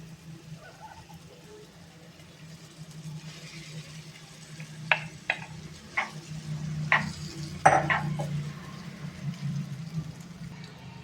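Leftover khichdi tipped into a pan and stirred with a spoon: a low steady hum of cooking, then a run of sharp metallic spoon scrapes and taps against the pan, with some speech in the background.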